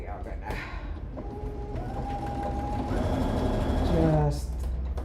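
A sewing machine stitching a straight seam on a fabric over-arm reversible tote bag, a steady close mechanical whirr that runs continuously for several seconds, with someone talking over it.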